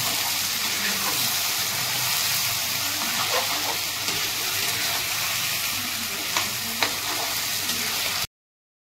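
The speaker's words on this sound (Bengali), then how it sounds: "আমি চিকেনটাকে মশলা দিয়ে ভালো করে কষিয়ে নেব" Chicken sizzles and fries in a pan as it is stirred with spices, a dense continuous hiss with occasional scraping and light clinks, close and steady until it cuts off abruptly near the end.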